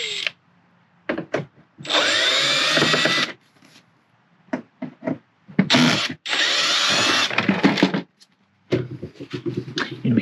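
A power drill backs out two screws from the front plate of an RV power converter, running in several loud whirring bursts of two to three seconds separated by quiet pauses.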